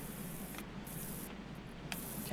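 Pressure washer spray gun in the video game Powerwash Simulator 2, set at a carnival, giving a steady, continuous hissing spray that runs loud and unbroken the whole time, with no talking.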